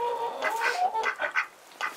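Chickens cluck and murmur under a hut, a cluster of close, overlapping calls in uneven bursts with a brief lull near the end.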